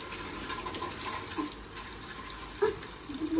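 Water sprays and hisses steadily from a pipe outdoors, with a few splashes and drips landing nearby.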